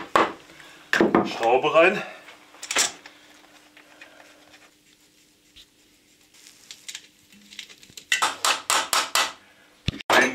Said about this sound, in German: gleich mal einen Schlag auf die alte Passhülse